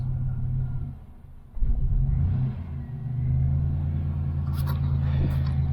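An old Typhoon truck engine rumbles low and steady on its first start in over ten years, with a brief surge in revs and some faint clatter near the end.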